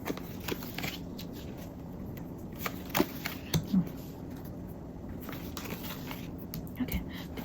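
Tarot cards being shuffled by hand, giving soft, quiet riffling and shuffling rustles with a few sharper taps and flicks, close up over a low background hum.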